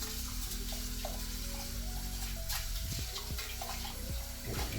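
Rice being washed in water at a kitchen sink, with running and sloshing water and scattered small splashes and clinks heard close up, continuous and with no talking.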